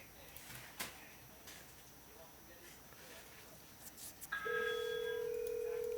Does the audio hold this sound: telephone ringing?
yes